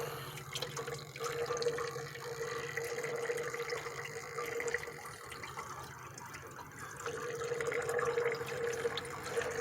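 Coolant trickles and drips from a fitting on a vintage Shelby Mustang, a steady thin stream of liquid pouring into a container, close and continuous.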